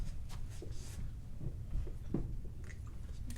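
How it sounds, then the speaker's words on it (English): Pen or pencil strokes as a math answer for a fractions problem is written out by hand, a few soft scratchy bursts at close range over a quiet room background. "You can write it right out here."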